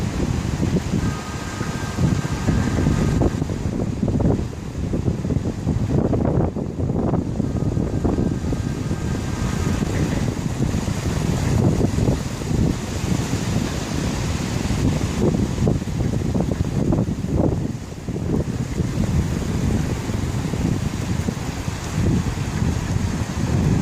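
Light wind buffeting a microphone on a beach-like open space while a kite is relaunched, a constant low rumbling roar with gusty swells and no voices.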